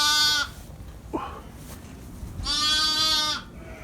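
Welsh ewes and lambs bleat in a lambing yard: a loud, close, drawn-out bleat, a faint short call, then another long, strong bleat, with no talking.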